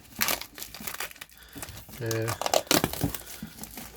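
Plastic shrink-wrap foil peeled off the collector's edition box of Kingdoms of Amalur: Re-Reckoning, heard as close crinkling and crackling with a brief tearing rip, mixed with someone talking.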